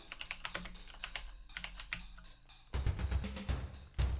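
Fingers tap out initials on a computer keyboard in quick, close, irregular keystrokes, followed by a few heavier presses near the end.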